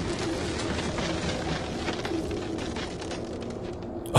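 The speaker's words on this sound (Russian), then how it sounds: "Сейчас, наверное, начнут там птички чирикать" Birds call in a lush underwater-and-forest scene from the game ABZU, with soft cooing and chirps over a dense, steady ambient wash that ends in a brief louder burst.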